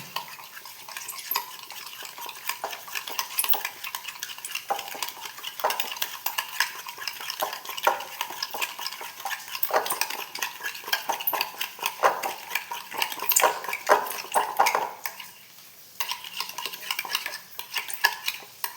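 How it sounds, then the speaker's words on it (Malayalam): Egg and sugar beaten in a bowl with a whisk or spoon, rapid rhythmic clinking and scraping strokes continuing close up for nearly the whole stretch, pausing briefly near the end. "അപ്പോൾ ഇതും കൂടി നമുക്ക് അടിച്ച് മിക്സാക്കാം"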